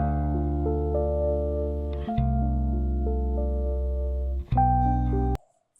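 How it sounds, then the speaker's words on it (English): Looped music sample with a heavy, prominent bass line under sustained harmonic chords; the loud, steady passage shifts chords twice, then cuts out abruptly near the end. "you can hear with that sample that it's got a pretty strong bass sound in it already"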